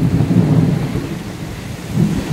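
Thunder rumbles low and heavy over steady rain outside a lakeside cabin at Bacalar, Quintana Roo, with two swelling rolls and no voices.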